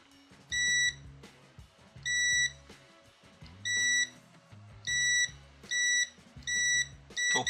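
A Venlab WG5000A multimeter sounds its continuity beep as the probes touch, six or seven short, sharp, close beeps in an irregular rhythm over faint handling clicks.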